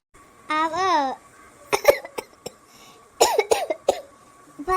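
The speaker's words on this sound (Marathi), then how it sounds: "किती खोकला आला थंडीनं" A burst of harsh coughing from a cold with a strained, wheezy edge, followed by several shorter coughs and throat sounds, close by and fairly loud.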